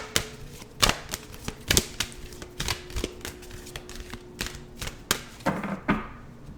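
A deck of Mystical Healing Reading Cards is shuffled by hand, a close series of sharp riffling snaps and soft card slaps at an uneven rhythm, with no talking over it.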